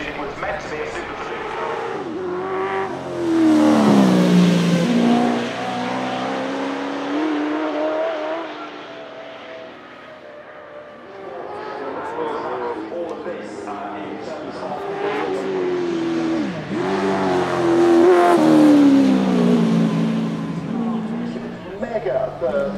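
Vauxhall Cavalier Mk1 "Mega Bertha" Super Saloon with a big Chevrolet V8 runs hard, its loud engine rising and falling through repeated revs and passes, with a commentator talking over it throughout.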